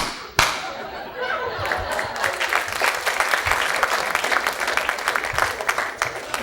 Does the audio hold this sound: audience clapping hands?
yes